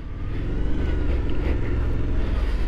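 A 2021 Suzuki V-Strom 1050 motorcycle ridden with the rider feathering the clutch, its engine drone steady and close with a fast, throbbing low pulse throughout.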